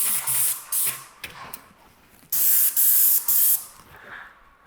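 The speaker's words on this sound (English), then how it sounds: "now I've just sprayed my corner" A spray can hisses in short bursts while painting a masked garage corner behind a cardboard shield, several sharp close sprays of about a second each with quiet gaps between.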